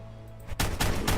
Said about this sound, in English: I gotta shoot you in the butt.